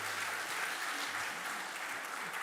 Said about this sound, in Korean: 우리 박수 부탁하겠습니다.